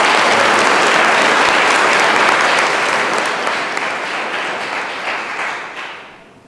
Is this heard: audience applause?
yes